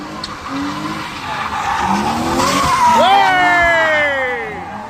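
A drifting car at a London night car meet skids with loud squealing tyres, the screech rising and sweeping in pitch over an engine roar, fairly close.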